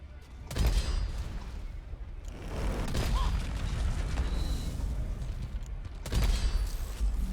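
Support rockets in the co-op mining shooter Deep Rock Galactic go off in loud booming bursts, one near the start and another late, with a rumbling battle din and scattered mechanical clatter in between.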